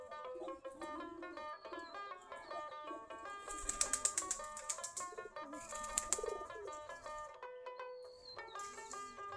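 Domestic pigeons, including local deshi birds, coo in repeated soft, rolling calls, several birds overlapping near and far, with a few brief bursts of flapping wings and chirps in between; nobody speaks.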